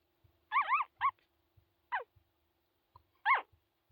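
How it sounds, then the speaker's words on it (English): Two-week-old Corgi puppies give a few high, wavering whimpers and short yips, close and clear, in scattered bursts with quiet gaps and soft low thumps between. "Little puppy sounds."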